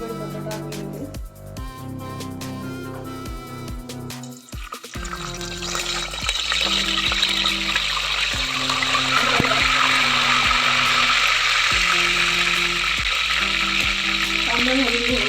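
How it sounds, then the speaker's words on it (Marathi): Curry leaves drop into hot oil partway through and set off a loud, spitting sizzle that holds steady to the end. Background music plays throughout, and soft kitchen sounds come before it. "तेल गरम झाल्याच्या नंतर कढीपत्ता टाकून घेऊया."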